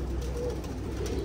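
Soft, low cooing of doves under a steady background hiss, brief and somewhat faint.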